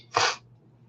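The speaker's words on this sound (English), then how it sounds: "Hold on, I've got to sneeze." A single short human sneeze, close and abrupt, a sharp burst lasting under a third of a second and followed by quiet breathing.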